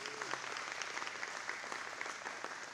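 An audience at a men's breakfast applauding, a dense steady patter of many hands clapping at a moderate distance and fairly quiet, with a voice briefly heard at the start.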